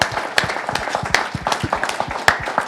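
Applause breaks out at a trucking fleet's driver meeting honoring a Best Fleets to Drive For Hall of Fame induction: scattered, moderate clapping from a small group, with a few sharper claps standing out over roughly three seconds.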